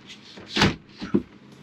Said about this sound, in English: Tambour door that sticks.